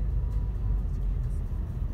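A large multi-axle truck on a forest highway near Perth, Australia rolls by as a continuous heavy low rumble of engine and tyres, loud and steady throughout, with no voices over it.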